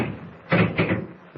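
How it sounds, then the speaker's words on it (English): A door is shut and locked from outside in a vintage radio drama: two solid, close wooden thuds in quick succession, then a faint click. "he's locking us in"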